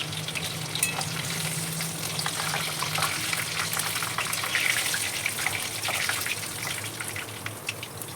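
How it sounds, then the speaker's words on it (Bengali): Bay leaves and dried chillies frying in oil left over from frying chicken for chilli chicken, a loud, steady, close sizzle that stays constant throughout with no voices. "এইবার চিকেন ফ্রাইয়ের পরে তেল বেঁচে গেছে সেই তেলেই আমি তেজপাতা শুকনো লঙ্কা দিয়ে দিলাম"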